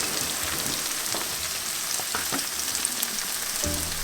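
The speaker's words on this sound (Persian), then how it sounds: "یه خورده این روغن احتیاج داره، من روغنم بریزم توی این" Cooking oil poured into a hot pan for bandari sausage with potatoes crackles and hisses in a dense, continuous sizzle close up, with a brief low clunk near the end.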